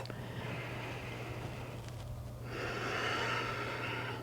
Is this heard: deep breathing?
yes